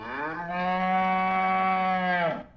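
A single long cow moo, loud and close, rising at the start and dropping off at the end.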